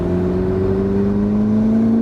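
McLaren 12C engine accelerates in fourth gear from 2,500 RPM, a steady, loud mechanical drone whose pitch climbs smoothly and continuously throughout, heard alone without talk.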